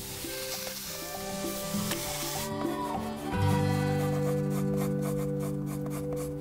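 Food stir-fried in a pan sizzles with a steady hiss and occasional scraping strokes, moderately close, under soft background music with no talking.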